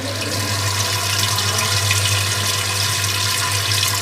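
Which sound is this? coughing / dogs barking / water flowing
water flowing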